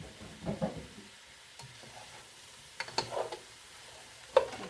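Sliced mushrooms tumble into a pan of seitan stir fry, giving soft thuds and scraping stirs over a low steady sizzle, with a few sharper clicks of utensil on pan.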